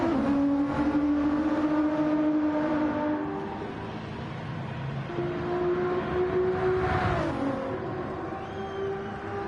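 A purple Syndicate Racing GTR race car in Gran Turismo during an endurance championship race, its engine droning steadily at high revs with shifting pitch, loud and close throughout, and no talk.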